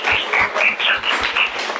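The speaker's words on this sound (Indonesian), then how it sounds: "tepuk tangan dong buat kelas kita" Class of students clapping together in a classroom in an uneven, rhythmic pattern of bursts, close and fairly loud.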